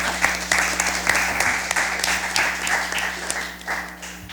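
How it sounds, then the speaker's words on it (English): Audience applause at a school junior science quiz, steady clapping filling the hall for the whole stretch at moderate loudness, with a faint hum underneath. "Give them a round of applause."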